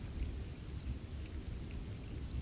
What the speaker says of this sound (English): a soft, rhythmic drizzle is falling over the ancient leaves of the Garden of